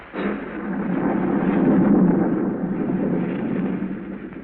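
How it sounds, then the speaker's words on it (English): A thunderstorm sound effect from an old-time suspense radio drama rumbles continuously, a dull, muffled roar that swells in the middle and stays heavy and low without any distinct cracks, heard alone. "A storm rages wildly over the countryside."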